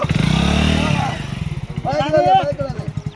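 A motorcycle engine revs with a low pulsing rumble, close by, while people shout and talk over it.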